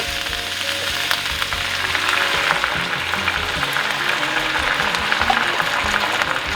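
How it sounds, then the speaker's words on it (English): Green beans and vegetable stock dropped into a pan of sizzling shallots and garlic, giving a loud, dense, steady hiss of frying with faint pops and crackles throughout, close and continuous. "I'm gonna add the green beans. And I'm gonna add some vegetable stock."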